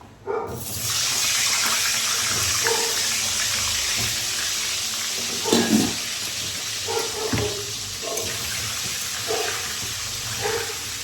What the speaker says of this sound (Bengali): আলুটাকে লাল লাল করে ফ্রাই করে নিই।